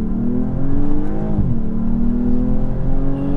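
BMW M240i xDrive engine accelerating hard, a loud, steady rising drone with one quick dip and recovery mid-pull as the revs climb again, heard from close by with no talking.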